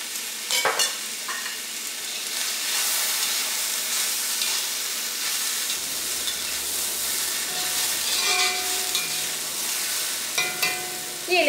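Chicken noodles fry in a pan as chili sauce goes in, a continuous close sizzle and hiss broken by scraping stir strokes and clinks, with no talking.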